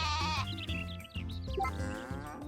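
Sheep bleating in the farming game Story of Seasons: A Wonderful Life, several wavering bleats in quick succession over soft game music, faint overall.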